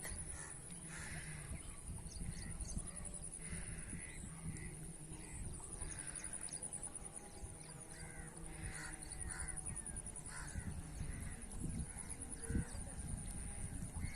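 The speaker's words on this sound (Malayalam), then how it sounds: "പക്ഷികളാണിത്" A large flock of birds perched near a river, black and white ones among them, keeps up a steady chorus of cawing, crow-like calls over a continuous hum, with some movement in the background.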